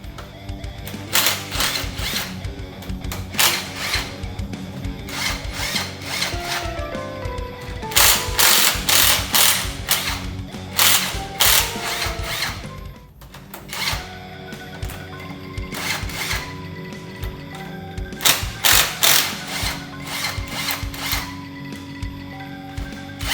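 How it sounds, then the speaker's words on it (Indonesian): An impact wrench loosens engine cylinder head bolts during a piston teardown, giving repeated loud rattling bursts of hammering, several seconds each, separated by brief pauses, with no talk over them. "saya memakai impact wrench untuk mempermudah melakukan pekerjaan"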